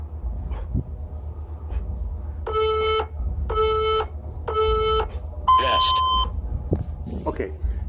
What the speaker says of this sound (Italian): ecco, vedete, il timer riparte.